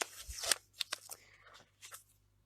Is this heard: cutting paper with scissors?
yes